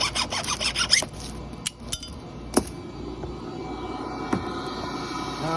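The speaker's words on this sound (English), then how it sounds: "So, I will cut this right in front of the line." Neon glass tubing being cut before an electrode is welded on, giving scattered light glassy clinks and a short rasping scrape, close and fairly quiet with no voices.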